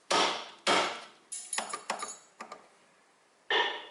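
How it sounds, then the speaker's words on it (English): Several sharp metallic hammer strikes on a Toyota Corolla front tie rod, a couple heavy blows followed by lighter quicker taps and one more hard hit, loud and close. "big hammer and hard hit up, and then this tie rod opens."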